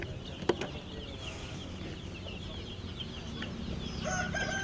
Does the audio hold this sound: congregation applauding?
no